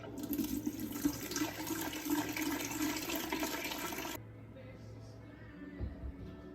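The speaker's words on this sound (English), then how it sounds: "It's a gallon pitcher, and I'll fill it halfway." Liquid rushing steadily into a gallon pitcher during an all-grain beer mash, a loud close gush that cuts off abruptly partway through, followed by faint handling noises.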